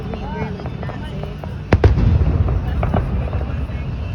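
Sizzling fireworks burst nearby at a downtown display: a sharp crackling pop followed by a spray of fizzing, sizzling crackles and scattered smaller bangs, while people chat throughout.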